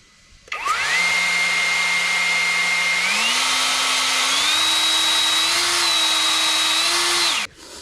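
A MAXPEEDINGRODS cordless leaf blower starts up and runs with a loud steady whine and airy rush, its pitch stepping up in stages as the speed is raised, then cutting off abruptly.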